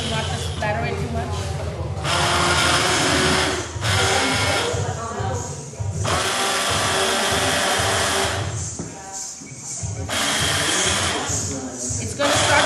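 Hand blender whirring through chana saag, loud bursts of motor noise starting and stopping several times with brief pauses between.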